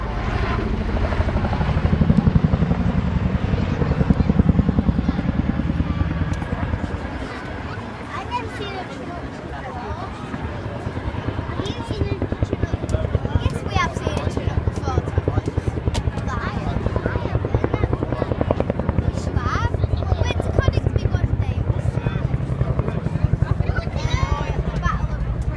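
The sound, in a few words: Chinook helicopter flying at air display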